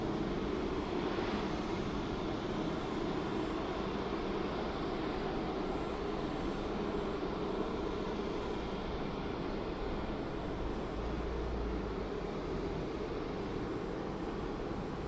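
Boeing 747 engines spool up at Birmingham Airport, with APU bleed air feeding the start, heard as a faint, steady, distant roar with a low rumble underneath.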